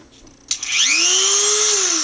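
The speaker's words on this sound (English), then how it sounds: "I'll cut some of this part of the bipod off. This is plastic," A Dremel 300 rotary tool spins up with a sharp rising whine and keeps a steady high-pitched buzz as it cuts into a plastic bipod, loud and close, with no one talking.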